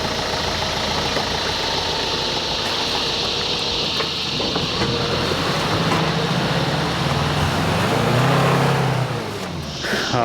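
A 4WD in low-range first gear with the rear locker engaged revs hard, nearly to redline, while climbing a wet, slippery washout on the Monkey Gum track near Yalwal in Australia. The engine roars close and steady, rising in pitch near the end.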